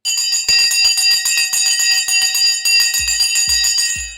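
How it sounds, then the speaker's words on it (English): A bell rings continuously and loudly for several seconds at the close of a live stock market trading broadcast, a steady bright metallic clang with rapid strikes, fading out at the end, with no talking over it. "The bell has gone."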